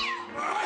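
A cat meows once in a Bud Light beer commercial, a short, clear, close, whining call with a falling pitch.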